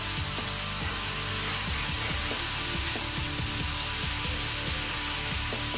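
Rotel and half an onion simmer in a pan with a steady, close sizzle, dense and unbroken, and faint scraping or stirring taps recur throughout.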